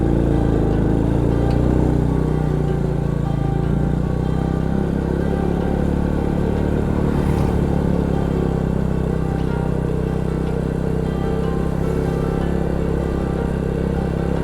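Honda Supra X 100 motorcycle engine labouring uphill in second gear on a foggy mountain road near Dieng, a loud steady close-up drone with rattling clatter that holds without letup.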